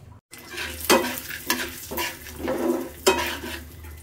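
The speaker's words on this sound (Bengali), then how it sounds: "পেঁয়াজ, রসুন, কাঁচামরিচ আর ধনিয়া পাতাটা পরে অ্যাড করবো, আগে এগুলো ভেজে নিই সুন্দর করে।" Peanuts fry in a pan with onion, garlic and green chili, sizzling steadily while a utensil stirs and scrapes against the pan in several distinct strokes, close up and with no talk.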